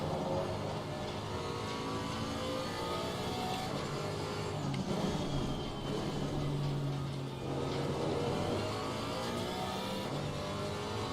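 A race car engine in a GT4 championship racing game at Misano runs at a sustained, steady drone for the whole stretch, with slight rises and dips in revs and no talking over it.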